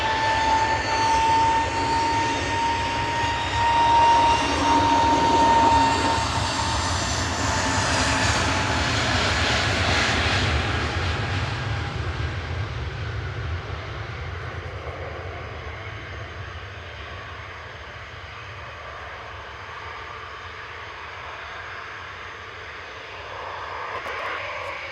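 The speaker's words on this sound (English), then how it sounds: "Departing next is EasyJet to Amsterdam with flight" An EasyJet jet airliner departs Manchester Airport for Amsterdam, its engine roar building to a loud broadband rush, then slowly fading into a distant rumble.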